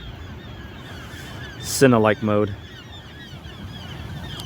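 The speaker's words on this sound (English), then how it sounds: "Oh, there's a lot of birds around me" Geese honk in a brief burst of two or three calls close by, heard outdoors near a small DJI Mini 2 camera drone in flight, with a faint drone hum and a short spoken phrase over the steady background.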